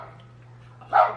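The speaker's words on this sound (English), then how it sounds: "Good dog." A single short dog bark near the end, fairly close, over a steady low background hum.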